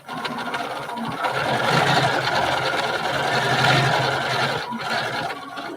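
Sewing machine running a single stitch, a steady mid-loud mechanical whir with a fast rhythmic chatter that holds for several seconds and then slows, with no voices.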